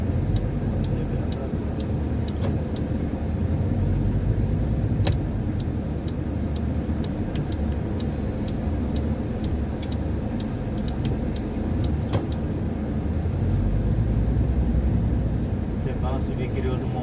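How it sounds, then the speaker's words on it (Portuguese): A city bus drives along a rain-soaked street, its engine a steady low rumble close by throughout, with faint ticking and small clicks over it and people talking in the background. "Olha o ônibus."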